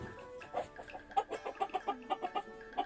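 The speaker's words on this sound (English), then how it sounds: "The rooster does not like it." Chickens cluck in a steady series of short, quick calls, fairly close and moderately quiet, with a rooster among them.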